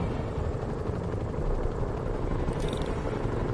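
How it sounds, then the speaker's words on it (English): Helicopters in a PS4 video game, a continuous dense rotor drone that stays steady and fairly loud throughout with no talk. "Bet I can use those helicopters to swing."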